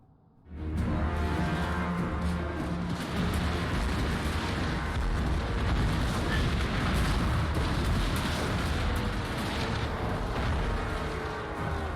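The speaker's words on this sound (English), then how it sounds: "I have one cannon fire on the hidden archers" Cannons fire on hidden archers in a fantasy strategy video game, a dense, continuous roar of booming blasts and battle noise that stays loud and sustained throughout with no talking.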